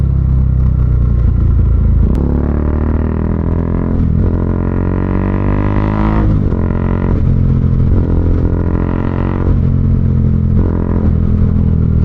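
A Dominar 400 UG2 motorcycle with an aftermarket Zeus muffler revs hard and loud up close, its engine note climbing and falling in repeated throttle blips over a steady idle rumble.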